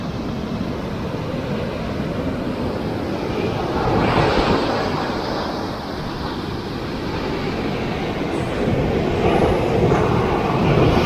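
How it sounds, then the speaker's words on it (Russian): Powerful ocean waves break along the shore near San Francisco in a steady, loud roar of surf with a few swelling surges and no voices. "Такие волны прям. Мощь такая прям чувствуется в океане."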